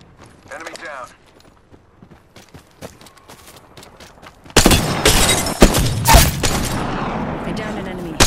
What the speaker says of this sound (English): They're firing, and they're hitting me.